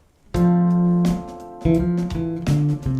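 A bass guitar plays a short melody of plucked notes, each ringing and sustaining before the next, clear and close with no talking.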